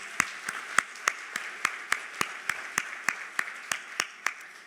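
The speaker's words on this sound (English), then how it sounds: "I just want to give HUD a round of applause" A single person claps slowly and evenly, about fifteen distinct claps spaced roughly a third of a second apart, fairly close and alone with no other voices, at an employee celebration of HUD's 50th anniversary.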